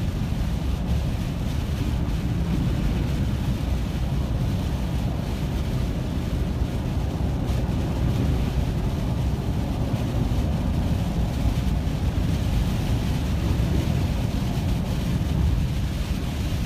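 Hurricane Harvey's winds near the eye buffet the microphone with a dense, continuous roar, steady gusting noise filling the whole stretch with no voices.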